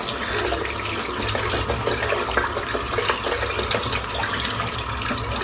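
A thick shaving brush full of creamy soap rinsed under a running tap, a steady loud splash and hiss of water in a sink with no voices.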